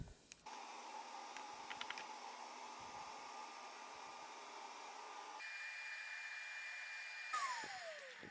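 Wood router cutting a bow tie inlay piece along a template, a steady loud high whine with broadband roar that shifts pitch partway through and ends with a falling tone as the motor spins down.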